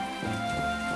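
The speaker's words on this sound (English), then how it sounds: "It's raining out, you goofy cat!" Steady, close rain pattering on surfaces in the video game My Time At Portia, a continuous wash of drops with a faint tonal hum from the game's ambience underneath.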